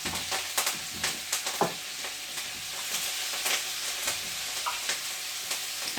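Chopped onions hit hot oil in a pan already seasoned with thyme and rosemary, giving a steady close sizzle broken by a run of sharp spoon taps and scrapes, with no voices.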